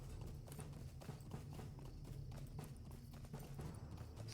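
Rapid hoofbeats of a horse galloping in the online game LOTRO (Lord of the Rings Online) clatter steadily and continuously at low level without pause, with no talking.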